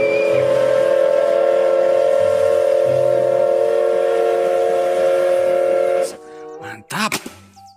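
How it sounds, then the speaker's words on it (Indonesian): Thomas steam train sounding a long, loud, sustained whistle for about six seconds, then cutting off, with rumbling and brief clanks as it passes close by. "Wah, kereta Thomas."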